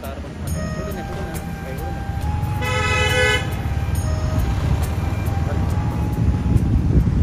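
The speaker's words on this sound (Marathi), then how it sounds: "नाशिक सिटीत आलेलं आहे, मरणाचं ट्रॅफिक आहे राव" Heavy city traffic in Nashik, India: a dense, steady rumble of engines, a long loud car horn blaring midway and shorter toots scattered around it, with faint voices mixed into the din.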